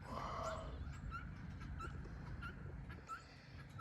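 Farmyard chickens come running toward someone, clucking and squawking in short bursts over a low rustling background. The clip is faint, and a brief honk-like cry is heard among the birds.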